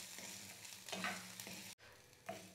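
Ginger and garlic sautéing in a pan for a ginger chutney, a soft, quiet sizzle with stirring scrapes and one brief gap, no one talking.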